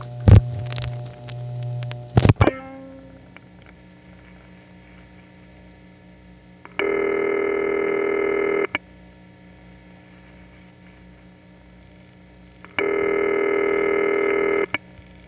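Dialing through an old crossbar tandem telephone exchange in 1975: a couple of quick clicks and tone bursts, then a steady hum, and twice a long, loud buzzing tone that sounds for about two seconds before cutting off.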